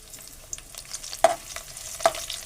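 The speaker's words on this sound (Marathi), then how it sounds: "थोडंसं आपण परतून घेऊ लसूण" Garlic with curry leaves sautéed in a pan, a soft sizzle under a few sharp metal clinks and scrapes from a stirring spoon, close and alone.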